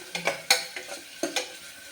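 Onions sauté in a pan under a spatula, giving a quick series of close scraping and tapping stirs over a light, constant sizzle, with no voices.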